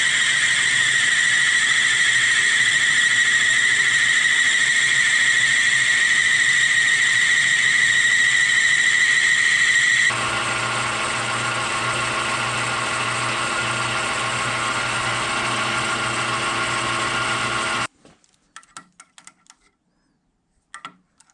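A metal lathe turns down a steel guide shaft for a Bridgeport mill power drawbar, making a loud, steady, high-pitched whine that drops in pitch partway through, then cuts out and leaves a few scattered clicks and taps.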